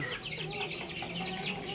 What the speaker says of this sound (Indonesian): ini jantannya usia lima bulan ya lagi belajar kokok